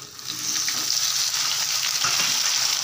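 Chopped spring onions frying in a pan, a steady bright sizzle that swells after a quieter start and holds close and even, with a few faint stirring knocks.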